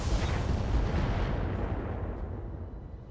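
Mech weapons firing in BATTLETECH, a heavy rumbling boom and roaring blast that starts loud and slowly fades away over a few seconds, with no talk.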